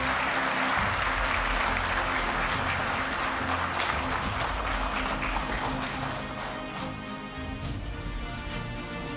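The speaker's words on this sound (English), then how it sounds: "Let's give a warm and hearty round of applause for our developers." An audience gives a warm round of applause for the developers at a challenge grand finale, loud dense clapping that holds steady, then thins slightly near the end.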